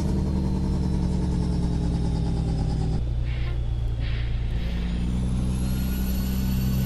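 Heavy truck engine rumble in the Euro Truck Simulator 2 game, steady and loud throughout, with a hissing air brake release partway through as the engine note drops and then settles back into a continuous idle drone.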